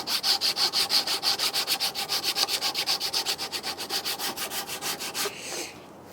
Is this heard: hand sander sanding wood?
yes